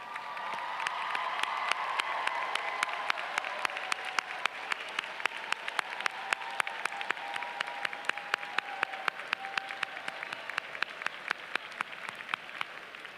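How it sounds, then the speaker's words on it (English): Sustained crowd applause for graduates at a university commencement ceremony, dense steady clapping that thins into scattered individual claps toward the end. "lead us in the applause for them"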